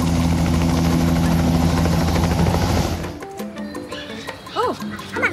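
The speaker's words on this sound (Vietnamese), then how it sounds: "một chiếc trực thăng." A toy helicopter whirs loudly with a steady rotor drone for about three seconds, then cuts off and gives way to lighter toy sounds and a horse-like whinny.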